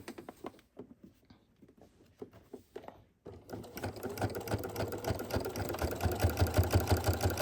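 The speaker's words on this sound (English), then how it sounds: "keep sewing to finish the line nice and evenly" A sewing machine stitching a jelly roll quilt seam at a quarter-inch seam allowance: several short, separate bursts of stitching at first, then a pause, then a loud, close, continuous run of rapid rhythmic needle chatter with a steady motor hum.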